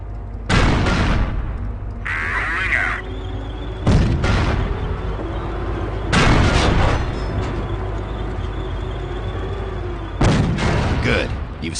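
Tank cannon rounds striking the rear armor of a Panzer tank in the World War II strategy game Company of Heroes, heard as four loud, sharp booms spaced a few seconds apart over a steady rumbling battlefield backdrop.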